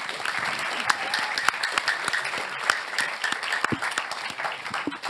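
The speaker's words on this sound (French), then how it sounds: "on va les applaudir, vraiment bravo" An audience at a Rwanda-themed evening event claps in a moderate round of applause, with scattered distinct claps over a softer steady patter, fairly close and even throughout.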